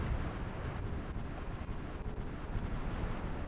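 Dense, continuous artillery barrage from the Supreme Ruler Ultimate strategy game, heavy low booms overlapping into a steady rumbling roll with no gaps, loud and unbroken throughout.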